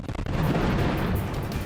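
A loud explosion rumbling from a news report on people running for cover, with a short burst of sharp pops at the start and then a sustained heavy low boom that rolls on without any talk.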